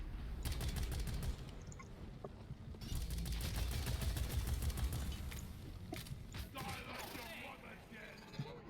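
Repeated gunfire aimed at a cave leech in a video game, sounding as dense, rapid bursts of shots that keep going under a busy game soundscape, with a voice talking over part of it.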